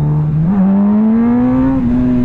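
A Kawasaki ZX10RR sport motorcycle ridden through traffic, its engine a loud close droning hum whose pitch dips, then climbs steadily and levels off, with no talk over it.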